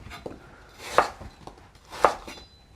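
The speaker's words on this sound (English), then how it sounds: "And now to slice them all." A knife slicing apples thinly on a cutting board, two sharp distinct thuds about a second apart with softer cutting ticks between, close and clear with no talk.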